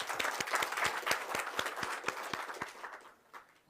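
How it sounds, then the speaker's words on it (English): An audience at an inauguration ceremony in Windhoek, Namibia gives a round of applause, dense rhythmic clapping that carries steadily before thinning and fading toward the end, moderately distant. "I think she deserves a round of another applause."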